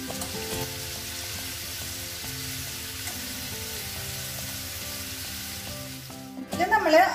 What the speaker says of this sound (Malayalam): ഈ ചെമ്മീൻ നന്നായി മൊരിയുണ്ട് കേട്ടോ